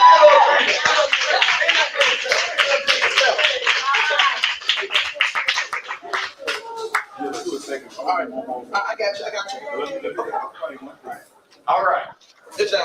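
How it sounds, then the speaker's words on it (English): A round of applause rings out in a room at a casting call, dense and steady for about six seconds before thinning into scattered claps mixed with chatter and laughter. "A round of applause"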